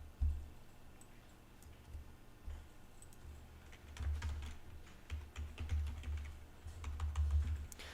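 Bursts of keystrokes on a computer keyboard during a jQuery coding session, clattering in quick irregular runs with short pauses between them, close and moderately loud, with no talking.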